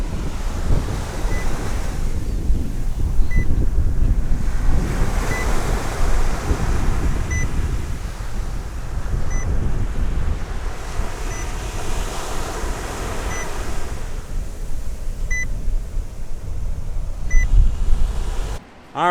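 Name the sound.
ocean waves on the shore at Acadia National Park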